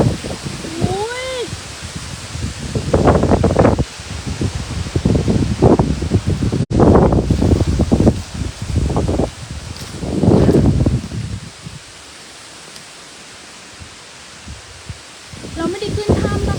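Strong wind gusts through a dark forest near Phaya Nak cave, rustling the leaves in loud, surging bursts with rumbling microphone buffeting, while a person talks and exclaims nearby.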